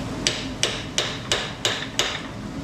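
Hammer driving a chisel into a crack in an axe at a forge, six sharp, evenly spaced metallic strikes about a third of a second apart, close and loud with no talking.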